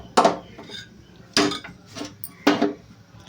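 A metal cooking pot is set down and handled on a gas stove in a home kitchen, making three separate sharp metallic clanks spaced about a second apart, close and clear with quiet between them.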